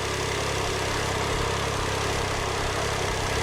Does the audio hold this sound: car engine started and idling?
yes